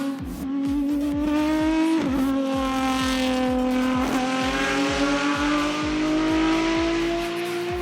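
A Lamborghini engine from the racing game Asphalt 8 roars loudly and continuously, its pitch wavering and dipping with small surges as it revs, with a rough rasping edge and no voices over it.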